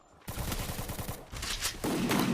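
Rapid automatic gunfire in the Free Fire battle royale game during a ranked match, a fast burst of loud shots followed by denser, noisier firing and impacts, with no talk over it.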